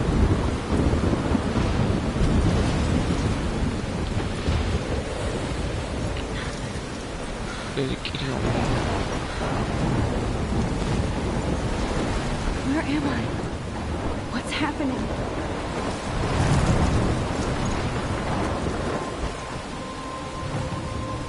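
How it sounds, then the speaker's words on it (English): A thunderstorm with rain rages in the video game Life is Strange. Heavy rain hisses steadily while deep thunder rolls and cracks several times, loud and close. A person speaks briefly over the storm. "I'm in the thunderstorm"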